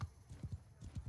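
Horse hooves clip-clopping at a gallop during a jousting charge in the video game Grim Dawn, a steady run of close, loud thuds in a quick repeating rhythm.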